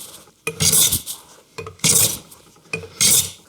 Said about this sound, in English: once I've gotten the bandsaw marks most of the way removed, the planing goes a lot more smoothly